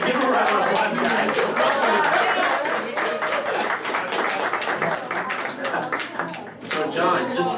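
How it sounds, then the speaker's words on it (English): Crowd claps and chatters at an anime convention game show, steady close applause mixed with cheers and talking voices throughout. "Give him a round of applause, guys."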